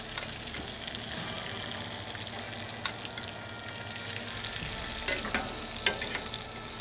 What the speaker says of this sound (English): we can sear a little bit longer